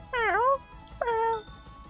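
Two clear cat meows from a cat in the video game Minecraft, close and fairly loud, the first rising and falling, the second shorter, with a faint low background hum and no talk.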